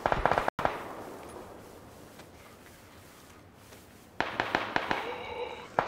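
Rapid bursts of video game gunfire crackle near and loud at the start, then a long quieter stretch of background noise, then more clustered sharp shots return toward the end.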